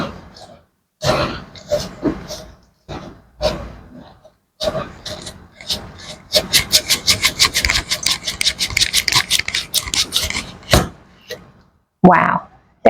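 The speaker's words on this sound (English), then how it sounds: "I'm going to use a sawing motion to slice through the meat." A kitchen gadget blade saws through meat in steady, rapid rasping back-and-forth strokes, loud and close, with some speech and a brief pause between bursts.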